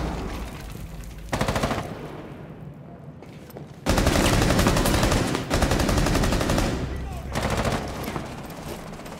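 Rapid automatic gunfire in the Rainbow Six Siege shooter game, with loud sustained bursts of shots that stop and start again over several seconds, near and dominant, with faint voices in the background.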